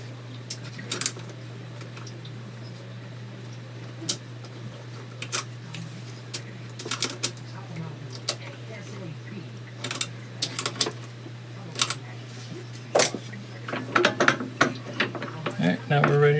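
Screws and a nut are tightened on an arbor press, producing faint, scattered metallic clicks and small ticks over a steady low hum, growing a little busier toward the end.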